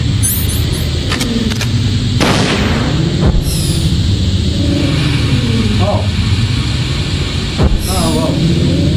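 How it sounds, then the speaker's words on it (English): A remote-controlled missile explodes in Metal Gear Solid, with booming hits and bursts over droning game noise and music. Voices speak over it. "Use a remote-controlled missile."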